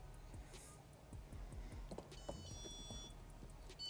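A store alarm emits faint, steady electronic beeping tones in the background of a quiet retail space, with low rumbling handling noise and no talking.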